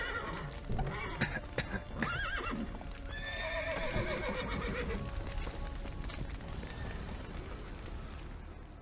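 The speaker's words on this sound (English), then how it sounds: "The horses!" Horses neigh and whinny repeatedly in The Witcher video game, with clip-clop hooves and a busy background of crackling and rumbling, several whinnies overlapping at moderate distance.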